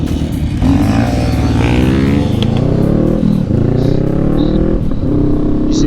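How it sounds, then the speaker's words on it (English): A motorcycle engine revs hard and loud close by as a rider pulls a wheelie at a Yamaha demo day outside a dealership, the roar rising and falling continuously with some clatter. "he wheelied right in front of me"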